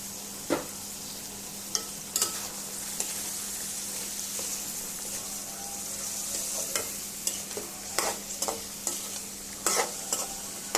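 Spiced dried fish is sautéed in a pan, giving a steady hiss of frying with sharp intermittent scrapes and clacks of stirring that grow more frequent toward the end, with no voices.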